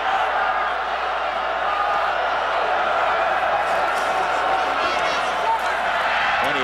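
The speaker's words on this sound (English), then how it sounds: "Crowd hollering for a flag" A college football stadium crowd at a Georgia versus Vanderbilt game hollers after an incomplete pass, a sustained, dense roar of shouting and booing that stays loud and even from start to finish.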